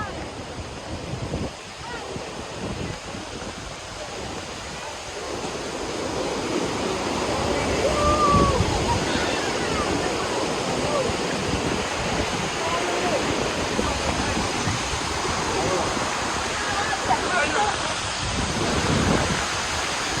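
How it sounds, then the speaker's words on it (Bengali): Waterfall and rushing stream in Italy, a steady broadband roar of falling water that holds constant throughout and swells slightly louder midway. "পানি যে ঝর্ণা নামতেছে"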